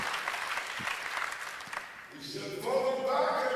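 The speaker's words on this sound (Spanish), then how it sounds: "Adelante, dele al Señor un aplauso." Audience applause at a sermon, a broad wash of clapping that thins after a couple of seconds, after which a sustained musical tone comes in.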